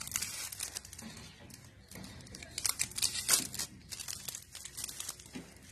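Close, continuous crinkling and tearing of wrapping paper as a hand-wrapped gift package is slowly unwrapped, with bursts of rustle and no talking.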